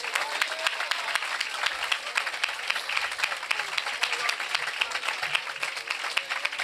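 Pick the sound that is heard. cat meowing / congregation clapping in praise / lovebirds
congregation clapping in praise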